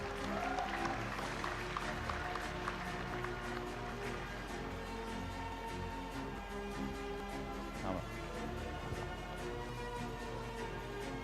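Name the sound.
audience applause at graduation ceremony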